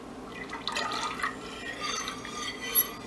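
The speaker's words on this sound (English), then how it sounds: "So as I very slowly pour it in a very steady, slow and steady stream," Liquid poured slowly in a thin, steady stream into a mixture while making castile bar soap, giving soft trickling and faint dripping sounds, quiet and close, with a small clink near the end.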